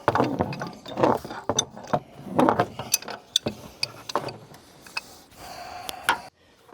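Hand wrench clicking and ratcheting on an automotive AC line fitting, a run of sharp mechanical ticks in irregular bursts, close and fairly clear with no talk.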